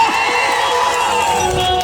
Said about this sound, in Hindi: जोरदार ताली बज देखलिए